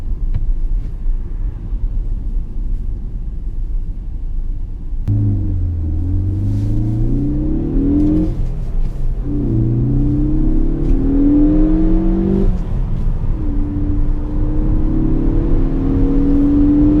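A turbocharged 2016 Ford Focus ST hatchback engine rumbles low, then accelerates through several gears, its pitch climbing and dropping with each shift, steady and fairly loud throughout.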